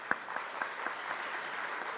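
Brief, fairly faint applause from the audience at a panel discussion, a soft wash of clapping with a few distinct louder claps standing out near the start.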